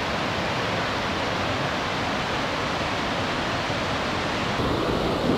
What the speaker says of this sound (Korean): 계곡의 수량이 어마어마합니다